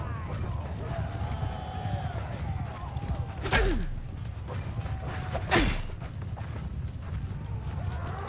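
A horse in Mount & Blade II Bannerlord gallops steadily with rhythmic clip-clopping hooves under game ambience, punctuated by two sharp louder hits, with a voice at times over the sound.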